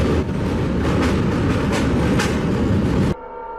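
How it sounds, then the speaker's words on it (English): A train passes close by, a loud continuous rumble and rattle of rail cars with rhythmic wheel clatter, cutting off abruptly near the end. "The person waits for the train to pass"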